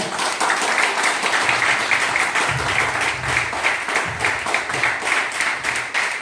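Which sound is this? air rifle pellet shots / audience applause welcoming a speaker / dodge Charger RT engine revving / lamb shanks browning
audience applause welcoming a speaker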